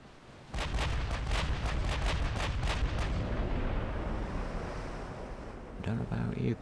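Naval guns fire a rapid salvo in the warship game Ultimate Admiral Dreadnoughts: a string of heavy booms in quick succession that settle into a long rumbling roar, with brief talk near the end.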